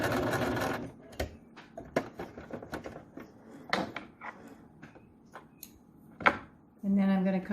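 A sewing machine stitches a fabric face mask in short bursts, each separated by clicks and handling noises, with one longer steady run near the end.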